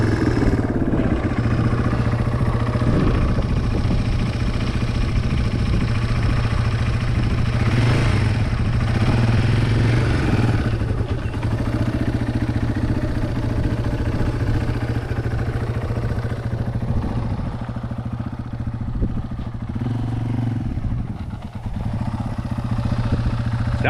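A motorcycle engine runs steadily close by during a beginner's first riding lesson, holding a constant idle with slight throttle swells throughout.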